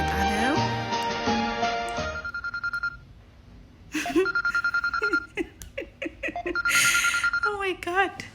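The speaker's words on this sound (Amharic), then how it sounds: "ባልየው ስልክ ሲደወል" A ringtone-like electronic tone sounds amid lively talk and laughter in a home, the ringing pulses standing out at moderate volume while voices carry on over and around it.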